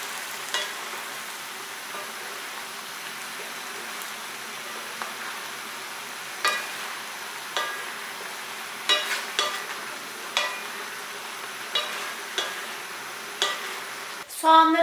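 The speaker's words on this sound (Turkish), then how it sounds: "Tekrar soğanlarla birlikte şöyle bir kavuracağım." Meat and onions sautéing in a pan with a little olive oil, a faint steady sizzle under repeated light spoon scrapes and taps that grow more regular toward the end.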